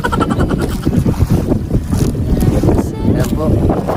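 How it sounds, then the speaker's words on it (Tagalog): A ship passes at sea, its engine rumbling beneath choppy waves, splashing water and heavy wind buffeting the microphone, loud and continuous. "Ayan po, barko, dumaan sa aming karapan."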